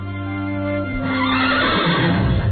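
A horse neighing sound effect gives a loud, drawn-out whinny with a steady pitch that breaks into a shaky, fluttering tail, heard alone with no talk.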